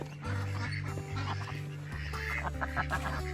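Several ducks quack in short, nasal bursts, some overlapping, close by with a steady low hum in the background.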